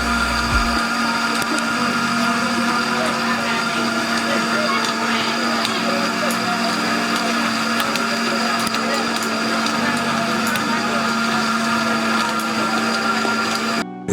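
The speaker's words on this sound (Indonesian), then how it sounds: "Nanti semua bahan-bahan di blender, kira-kira nanti sampai halus lah nantinya" Electric blender grinding traditional jamu herbal ingredients, a steady loud whirring drone that holds constant for the whole stretch, close by with no break.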